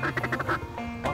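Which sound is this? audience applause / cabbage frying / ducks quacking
ducks quacking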